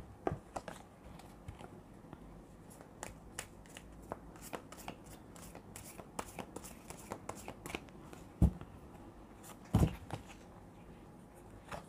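A deck of oracle cards being shuffled by hand during a Thai love-fortune reading, giving a steady run of soft riffling flicks close to the mic, with two sharper card slaps near the end.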